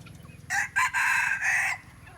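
Hybrid jungle fowl crowing at moderate distance: a broken call of short bursts, then a long drawn-out note, over a quiet outdoor background.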